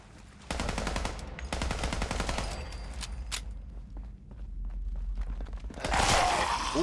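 Automatic turret gunfire in Fallout 4, loud rapid machine-gun bursts in several volleys with short gaps between them, then a final burst near the end.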